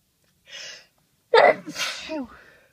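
Two human sneezes close to the mic: a short breathy intake, then a loud explosive burst followed by a trailing voiced tail, on a quiet background.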